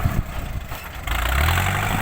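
A steady low engine idles and then revs up louder, a continuous mechanical rumble with no voices.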